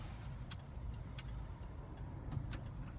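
A white car passing on a street, a steady low rumble of road traffic with a few brief higher whooshes and clicks along the way, no voices.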